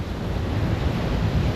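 Sea waves at Malpe beach, near a seawalk, surge and wash in a steady, loud broadband roar with heavy low rumble, wind buffeting the microphone throughout; no voices.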